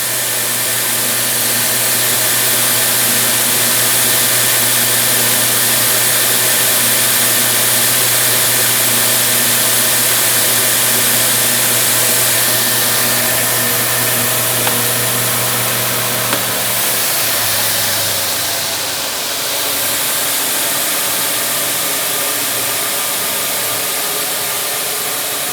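An Oakley H-660 dual-sided oscillating edge sander runs with a steady, loud motor hum and hiss that holds throughout, then drops in pitch near the end as it changes state, with no one talking.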